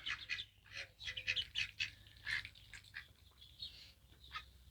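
Farmyard turkeys on a hobby farm: a run of rapid, warbling gobbles and calls, fairly faint and somewhat distant, arriving in short bursts with brief pauses between them.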